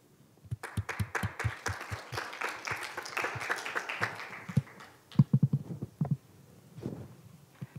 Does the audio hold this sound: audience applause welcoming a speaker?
yes